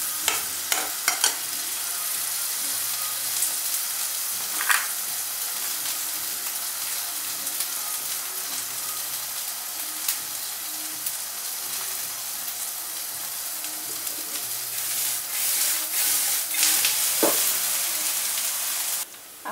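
Oil sizzles steadily in a pan for a Bangladeshi egg-and-potato curry, with continuous frying hiss broken by occasional scrapes and clinks of stirring, fairly close and alone without voices.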